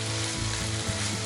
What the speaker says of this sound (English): and then you just saute it in. Let it cook.